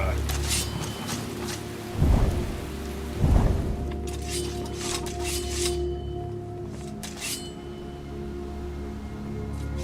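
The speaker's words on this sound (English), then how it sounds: "I didn't want to do rain." Steady rain falls in the video game Skyrim, a constant hiss with two heavier thumps and a low background hum, and no voices over it.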